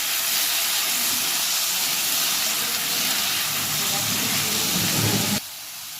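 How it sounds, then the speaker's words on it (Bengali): Potatoes frying in oil with salt and turmeric sizzle loudly and continuously while being stirred, before the sound cuts off abruptly near the end. "লবণ দিচ্ছি, অল্প পরিমাণে হলুদ গুঁড়া দিচ্ছি, দিয়ে ভালো করে নেড়ে ভেজে নিতে হবে।"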